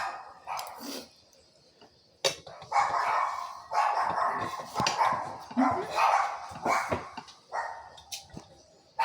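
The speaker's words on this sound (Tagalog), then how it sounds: "Ang ingay dito sa amin, maraming aso." Several dogs bark repeatedly and overlap in a noisy, ongoing chorus, some yips sharper than others, fairly close.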